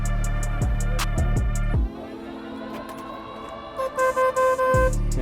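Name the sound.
horn on a Polaris RZR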